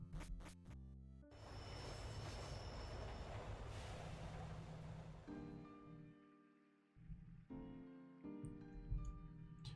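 Train ride on a small line in Pokemon Rejuvenation, a sustained rumble of wheels on track that swells then eases off, followed by chiming game music tones.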